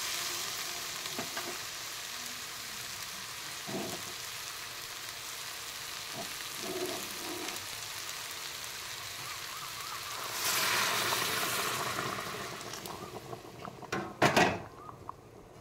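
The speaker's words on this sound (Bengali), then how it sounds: "কষানো হয়ে গেছে, এবার আমি দিয়ে দেবো গরম জল" Hot water poured into a pan of sautéed masala that has been sizzling, steady frying hiss with occasional stirring clinks, then a loud rushing surge of sizzle near the end.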